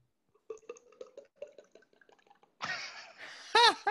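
A person mimics wine pouring into a glass with their mouth: a quick run of wet, dripping clicks followed by a gurgling, rising glug as the imaginary glass fills, close and alone.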